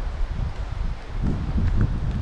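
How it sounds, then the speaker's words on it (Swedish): Wind gusts buffet the microphone in a forest on a bushcraft overnight trip, a steady low rushing roar that swells stronger toward the end, with no speech. "vi kämpar på här i vinden"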